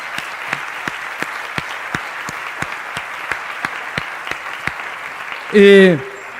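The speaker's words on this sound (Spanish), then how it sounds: "denle un aplauso a Dios por la vida de Vicky." A church congregation applauds in praise for Vicky's life at her graduation, with steady, evenly spaced sharp claps over a soft hiss of crowd noise, and a brief voice breaks in near the end.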